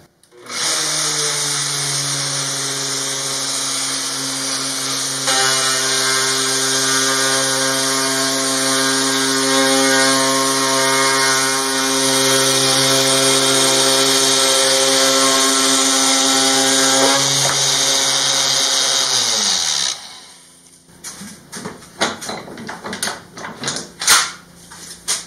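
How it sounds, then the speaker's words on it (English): A power tool with a roller guide trims Formica laminate laid over 3/4 inch plywood, giving a loud, sustained whine that holds for about twenty seconds before cutting off, followed by scattered clatter. "I place the roller against the plywood and then start cutting."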